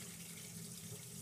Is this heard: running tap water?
yes